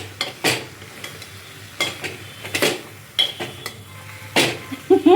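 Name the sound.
okra and onion sautéing in oil in a pan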